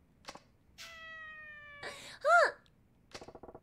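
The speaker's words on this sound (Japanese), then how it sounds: "子猫の鳴き真似をする。" A kitten in the Yakuza 4 video game gives a single short, high meow, preceded by sustained game tones and soft clicks, with a brief quiet voice near the start.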